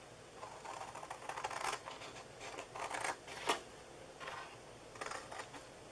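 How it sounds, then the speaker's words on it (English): Scissors snip tabs off a vellum paper treat box in a quick series of faint, crisp cuts with short pauses between bursts, in a quiet room. "we are going to cut these little tabs off again"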